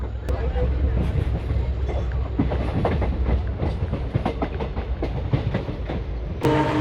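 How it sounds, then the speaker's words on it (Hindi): The Fazilka–Bathinda passenger train rolls out of Abohar Junction, with a steady low rumble and rhythmic clickety-clack of wheels over rail joints, heard from on board, loud and continuous with a sharp burst near the end. "निकल चुकी है अपनी ट्रेन अबोहर जंक्शन से और वो अपनी फाजिलका बठिंडा पैसेंजर"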